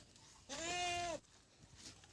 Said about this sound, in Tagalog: Susuga tayo ng kambing tsaka karnero.